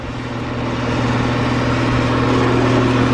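A Rheem Classic central air conditioner from 2016/17 running steadily with a loud, constant hum and a low buzzing rattle throughout, slightly building in the first second.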